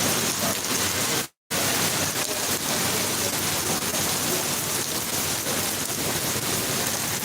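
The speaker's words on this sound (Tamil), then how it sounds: "செம்ம மழை" Heavy rain pours steadily in Singapore, a dense, loud, unbroken hiss of water hitting surfaces, briefly cut by a moment of silence before resuming.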